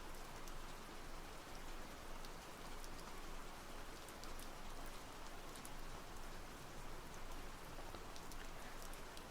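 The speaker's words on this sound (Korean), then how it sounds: "우리 빗소리 들으면서" Steady rain falls in a dense, even patter of drops hitting a surface, a quiet continuous hiss with scattered brighter taps and no voices, serving as a sleep backdrop for Korean ASMR book reading.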